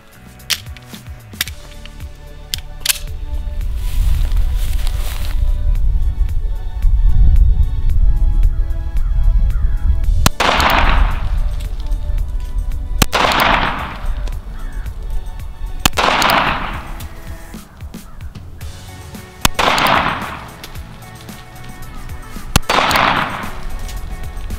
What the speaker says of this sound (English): I'm shooting at a 5/6 inch steel gong.